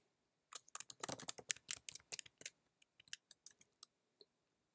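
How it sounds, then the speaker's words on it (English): Light clicks of typing on a computer keyboard while entering a sudo command, a quick flurry of keystrokes followed by a few sparse, separate taps, close and quiet. "since I'm not administrator, I'll need to type sudo before this command"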